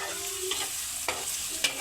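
Spices tempering in hot oil with onions and green chillies frying for a dosa filling, a continuous close sizzle broken by three sharp stirring scrapes, no speech.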